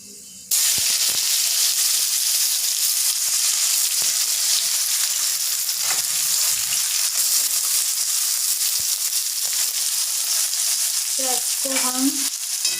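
Onion and curry leaves fry in hot oil for a tomato chutney, giving a loud, steady sizzle and hiss that starts abruptly and carries on throughout, with some stirring scrapes near the end.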